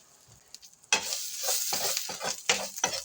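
Vegetables hit a hot pan with a sudden loud sizzle, then keep frying steadily while being stirred, with scraping bursts of stirring over the hiss.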